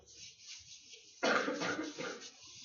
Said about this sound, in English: Please stop coughing.